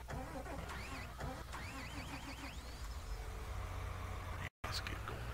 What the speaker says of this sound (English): Here's my big tractor, guys. This is the 8R.